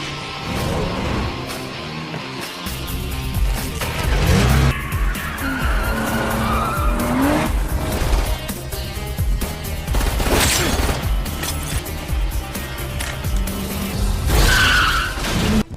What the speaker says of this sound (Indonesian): Donna terpisah dari Smith, sementara Smith melarikan diri bersama Oliver menggunakan mobil curian.